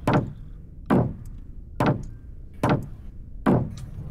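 Door being opened in the video game TotalMaze, five evenly spaced heavy knocking thuds, close and fairly loud, with quiet gaps between.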